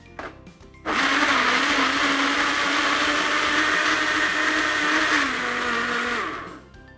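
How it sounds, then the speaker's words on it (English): A blender mixing mango, yogurt and water starts up abruptly and whirs loudly and steadily for several seconds, its pitch dropping slightly before it winds down and stops. "Let's take the blender."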